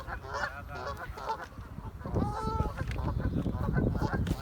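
Geese honk repeatedly nearby outdoors, a chorus of nasal calls that grows denser and louder partway through, with a faint voice in the background.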